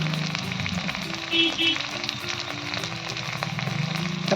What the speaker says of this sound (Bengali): পরিমাণ মতন নুন দিয়ে ভালো করে আমি ভেজে নেবো সব মশলাগুলো